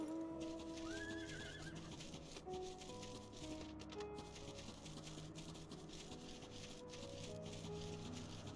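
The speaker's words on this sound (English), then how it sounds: "Let me just ride a horse." A horse mount in Final Fantasy XIV gives a rising whinny near the start, then hooves patter on under a dense, steady bed of game music and ambience.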